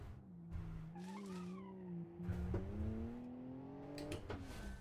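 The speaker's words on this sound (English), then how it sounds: "Oh, I crashed." A car in BeamNG skids with drawn-out tire squeals and crashes, its engine droning steadily underneath, moderately loud throughout.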